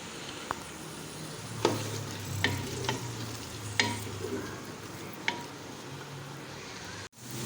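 Onions and garlic frying in a pan, turning golden, with a steady soft sizzle broken by several sharp stirring scrapes and clacks of a utensil, fairly quiet and close, with no talking.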